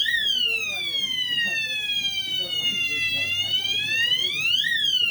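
A conventional fire alarm system under testing and commissioning sounds a loud, continuous siren-like tone that sweeps slowly down and then back up, alone with no talk over it.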